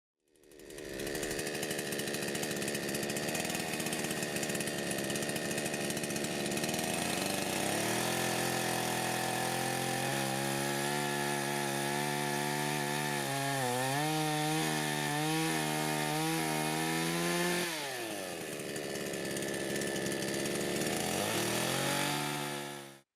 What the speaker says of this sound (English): I can say that after such sharpening, the saw cuts literally a little better.